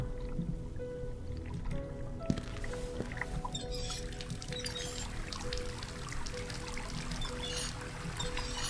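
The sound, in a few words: water running from a faucet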